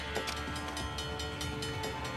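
An approaching train in Uncharted: The Lost Legacy rumbles loud and close, with rapid rhythmic clacking and rattling of wagons over a deep low drone.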